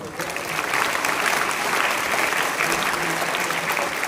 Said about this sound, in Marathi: टाळ्या वाजवा, मोठ्याने टाळ्या वाजवा.